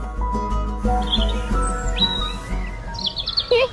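A crow gives a few harsh caws near the end, following a busy stretch of layered tonal sounds.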